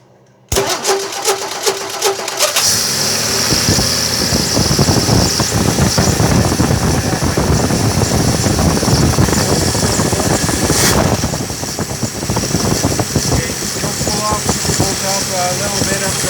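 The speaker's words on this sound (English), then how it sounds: "we'll hit the starter, see if she goes" A 1963 Valiant engine cranks briefly on the starter, catches, and roars into a loud, rough, steady run close by that continues to the end, with a slight dip in the middle.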